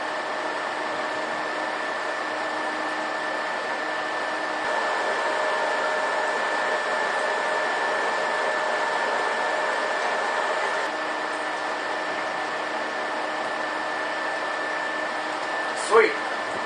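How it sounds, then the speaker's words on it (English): A 12 volt pump and fan run inside a DIY hot-water air heater, giving a steady whirring hum with a constant tone that lasts the whole time, alone and fairly close, ending with a brief click. "There's the hookup to the 12 volt. That's the pump and the fan."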